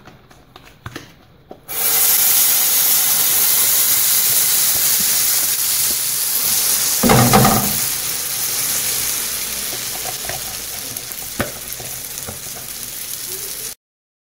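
Semolina and coconut batter flavoured with orange poured into a frying pan over low heat, bursting into a loud, steady sizzle that hisses continuously before cutting off abruptly, with faint clinks early on.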